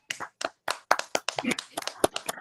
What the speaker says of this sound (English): Clap it up for RJ real quick, chat.